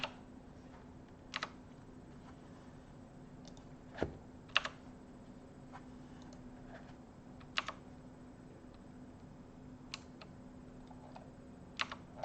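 Sparse, scattered keypresses on a Razer mechanical keyboard, crisp and fairly faint clicks arriving singly and in small pairs over a steady low background hum.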